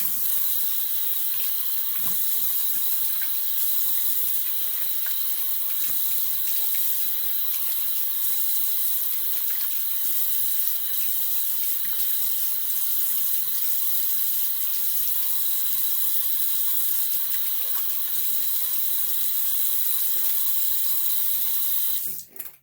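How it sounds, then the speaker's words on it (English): Water from a shower runs loudly and without a break while someone rinses off, a dense hiss that stops abruptly at the end. "But let me rinse off."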